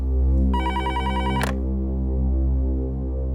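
A telephone bell rings in one short, loud burst partway through, over a steady low hum, during a tense Indian crime drama scene.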